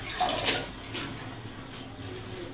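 Water runs and splashes in short bursts while food is rinsed in a home kitchen, with brief louder spurts against a quiet background.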